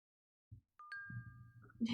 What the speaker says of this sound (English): The silence is broken by a ringing chime signaling that a new message has arrived